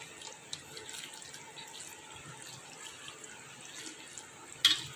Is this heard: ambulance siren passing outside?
no